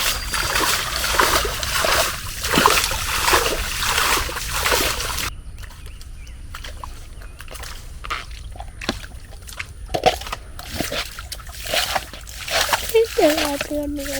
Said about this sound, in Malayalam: അപ്പോൾ നമ്മൾ വള്ളത്തിലെ വെള്ളം മൊത്തം തേക്കിയിട്ടുണ്ട്.